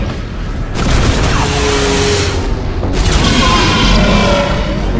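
Rockets explode in the VR shooter Bullet Train, loud deep booms with a rumbling, crackling tail that swells, eases briefly and then swells again over several seconds.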